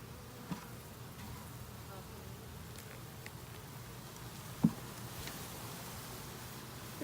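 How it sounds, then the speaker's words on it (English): A bee swarm being put into a Flow Hive buzzes as a steady, fairly faint drone throughout, with a few light knocks. "There's a lot of bees in here."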